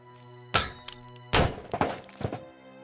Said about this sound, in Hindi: ला हथौड़ा मार ताले पर जोर से।